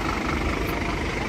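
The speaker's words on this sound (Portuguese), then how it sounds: "O caminhão de limpeza, que limpa a rua." Street cleaning truck working on a city street, a steady broadband engine rumble with a scrubbing hiss running continuously throughout at moderate loudness, with no talking.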